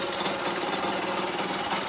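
A Yamaha DT50MX motorcycle engine idles steadily during a rebuild, producing a close, continuous buzzing drone with a faint rhythmic knock underneath and no voices.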